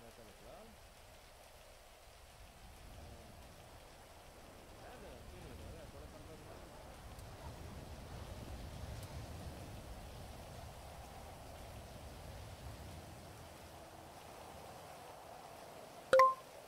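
Steady rain falls in a GTA roleplay game world, a soft continuous hiss with low rumble swelling slightly midway, ending in a sharp brief click near the end.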